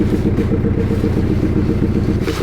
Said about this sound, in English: I can put it in gear and the tyres will spin, and the Jeep goes nowhere